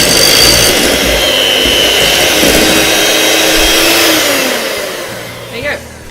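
An electric mixer beats chocolate cake batter in a kitchen, its loud, steady whirring drone filling the whole stretch before easing off and softening near the end.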